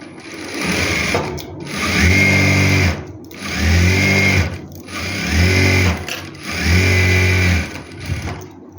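A sewing machine stitches a seam on a farshi salwar, running in four steady whirring bursts with brief stops between them, close and loud throughout.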